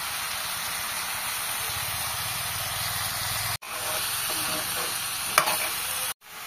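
Pumpkin and lentils frying in a pan, a steady loud sizzle and hiss with a spatula scraping and stirring through it, broken by brief pauses, close up and without talk.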